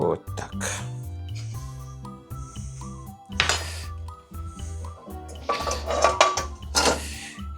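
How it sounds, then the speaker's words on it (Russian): A small saucepan is handled in a kitchen, with metallic clanks, clinks and knocks of pots and utensils coming in bursts, close by, while someone talks over them. "здесь я взял такую маленькую кастрюльку"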